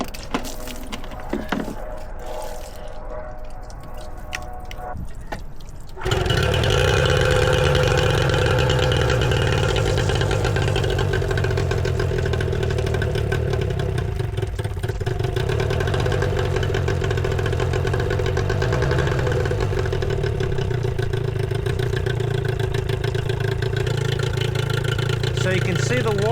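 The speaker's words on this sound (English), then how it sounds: "start the engine, and let it idle for 4 minutes" A Yamaha 15HP two-stroke outboard running on a flush attachment starts up after a few quiet seconds, then holds a steady, loud, buzzing idle without letup.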